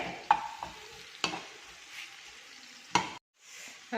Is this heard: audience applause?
no